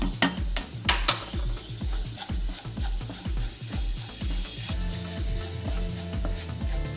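Clam meat roasts with ground pepper, garam masala, fennel, cardamom and clove in a pan for a Kerala-style dish, giving a steady sizzle with quick, rhythmic scraping and clattering of stirring.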